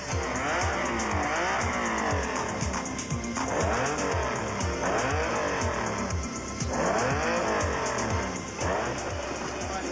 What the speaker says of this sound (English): This is the Lamborghini Countach.